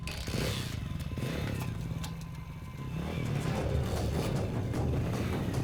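Motorcycle engine in a film scene rumbles steadily at moderate level, building slightly after a brief dip, mixed with clattering and background scene sound.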